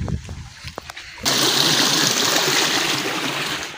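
Irrigation water on a date palm farm in Oman runs in a steady, broad rush that starts suddenly and holds, after a few faint knocks and thumps before it.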